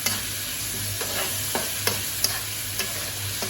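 Mutton pieces with about two spoons of salt fry in a pan, giving a continuous close sizzle broken by several distinct scrapes and knocks of a spoon as the meat is turned, with no talking.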